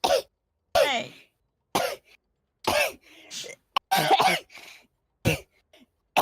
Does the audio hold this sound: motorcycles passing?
no